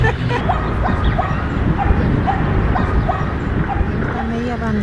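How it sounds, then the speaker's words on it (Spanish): Several dogs bark, yip and whimper in a park plaza, with repeated short yelps at mid distance throughout, while people talk over them nearby. "hay muchos perros, lo único."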